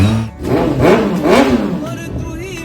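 A 2021 Dragon motorcycle engine revving close by, rising and falling in several throttle blips over a steady running drone, loud and dominant.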